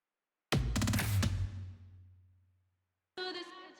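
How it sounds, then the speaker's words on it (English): Drum kit built from electronic toms, a big snare and Cashmere cymbals: a quick burst of tom and snare hits with a long booming decay, a pause, then a further short burst of hits, heard alone. "I always use some toms from sound pack, electronic toms with a big snare"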